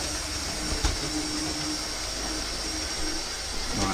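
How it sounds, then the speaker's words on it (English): An aeroplane coming in to land roars overhead as a broad, steady rushing drone of jet noise, fairly loud and continuous, with a faint knock early on. "Aeroplane coming to land."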